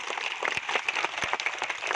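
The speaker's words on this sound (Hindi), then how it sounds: "एक बार जोरदार तालियां पूरे सदन" Crowd applause at a festival at the Ahraura hills, a dense steady patter of many hands clapping continuously, moderately loud with no speech on top.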